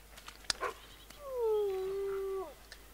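A timberwolf in the zoo game Planet Zoo gives a drawn-out, sliding howl lasting about a second, preceded by a few short yips and clicks; fairly close and clear, with no talking.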